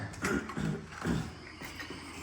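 Ratchet wrench driving a half-inch bolt during an engine swap, a few rhythmic clicking bursts close by over a low shop hum.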